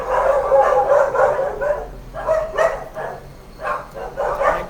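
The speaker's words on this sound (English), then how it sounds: "So it alerts me to look out every time they make up all that noise and barking." Several dogs at a home gate bark loudly and excitedly in repeated overlapping bursts, some yips mixed in, close by.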